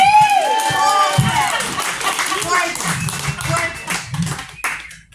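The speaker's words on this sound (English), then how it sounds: "Everybody applaud this man." Audience clapping for a man at a live comedy show, a burst of scattered applause that rises and thins out while voices talk and laugh over and through it.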